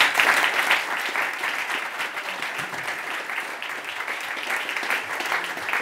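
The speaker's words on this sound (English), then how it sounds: "So one more round of applause for them." Audience applause at a startup demo day in London fills the room, a steady dense wash of many hands clapping that stays loud and even throughout, with no talk over it.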